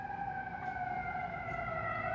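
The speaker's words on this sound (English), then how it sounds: "those sirens, man." Emergency vehicle sirens wail steadily outside, a sustained, loud rising-and-falling tone with layered pitches that fills the whole stretch with no talk over it.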